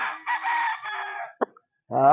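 A white-legged rooster crows loudly nearby at a poultry farm, followed by a short cluck and the start of another crow.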